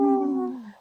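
A short, clear howl holds a steady pitch and then fades over less than a second, close and alone with no talk, a sound that fits a wolf.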